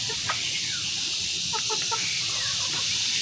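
Chickens cluck in short, scattered bursts, moderately close, over a constant high-pitched hiss of background noise.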